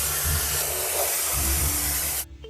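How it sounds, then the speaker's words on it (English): Steady loud spray hiss from a spray gun painting a ship's chain and anchor in a kids' boat-building game, continuous over a low hum and cutting off sharply near the end. "Let's drag the spray gun to paint the chain and anchor."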